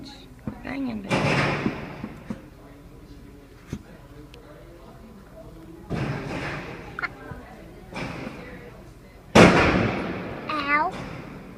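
Gunshots at an outdoor gun range, several loud sharp reports spread out over about ten seconds with ringing tails, while a child and adults chatter nearby between shots.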